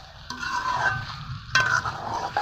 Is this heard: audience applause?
no